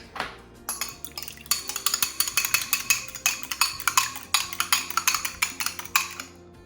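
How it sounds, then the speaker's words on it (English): Egg cracked into yuca croquette dough in a bowl and stirred, a quick run of close, repeated clinks and scrapes of utensil against the bowl, steady and rhythmic, with no talking. "So we'll crack an egg."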